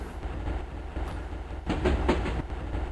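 Subway train ride in the video game Barkley's Shut Up and Jam: Gaiden, a steady low rumble of rolling rail cars with clickety-clack wheel beats and a brief swell of clatter midway, alone without talk.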